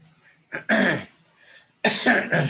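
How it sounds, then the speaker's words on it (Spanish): A close coughing fit: one short cough, a harsh cough, a pause, then three rapid hacking coughs in quick succession. "me cogió una tosedera horrible"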